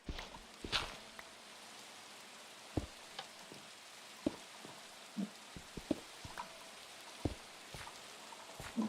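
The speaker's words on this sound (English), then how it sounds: "Of course it's raining." Minecraft rain falls steadily in the background while scattered clicks and taps punctuate it, quiet and even throughout with no talking.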